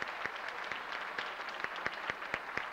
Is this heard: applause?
yes